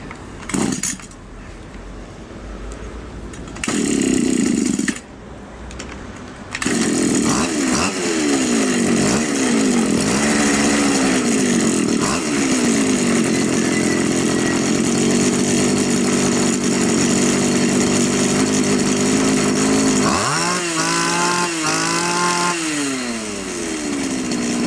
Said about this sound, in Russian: В принципе, нормально, триммер работает хорошо.